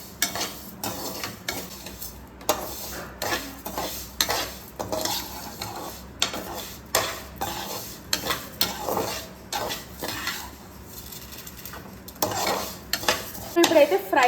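Thin vermicelli frying in a pan while being stirred, repeated scraping and clinking of a utensil against the metal in an uneven rhythm over a soft, steady sizzle.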